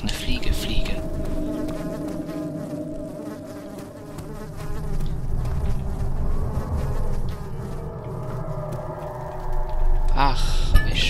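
Fly buzzing in the horror game Amnesia, a continuous wavering insect drone, close and steady, with a voice talking over it briefly.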